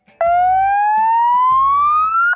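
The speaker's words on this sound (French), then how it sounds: "Le bouton rouge, ou baleine, active une sirène continue." A Trikke Defender electric tricycle sounds its continuous siren, a loud single tone sweeping steadily upward in pitch for about two seconds with no pause.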